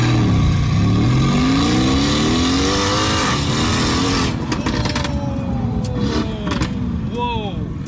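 A rebuilt, previously wrecked Mercedes-AMG GT S launches and accelerates hard, its engine note climbing steeply through rising revs with a roaring exhaust, loud and close, then easing off with some crackle and a brief voice near the end.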